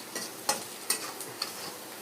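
Spices for potato poriyal are stirred in a pan: a quiet, light sizzle broken by a few sharp ticks and scrapes of the spoon at uneven intervals, with no talking.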